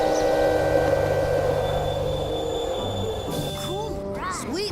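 A train rolls along the tracks with a steady loud rumble and sustained tonal hum, and rising and falling wheel squeals come in near the end.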